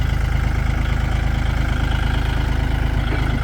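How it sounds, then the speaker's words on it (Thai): A Kubota L4018 DT tractor from 2020 idles steadily up close, its diesel engine giving a constant low throbbing rumble with no voices over it. "ดูเครื่องยนต์นะครับ"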